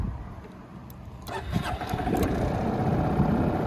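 A Honda Forza MF08 scooter with a blinking F fault light, caused by a faulty driven pulley sensor, cranks and starts up close by, settling into a steady running engine hum with no talking.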